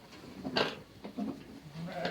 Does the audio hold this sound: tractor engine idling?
no